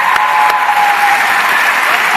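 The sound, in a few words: audience applause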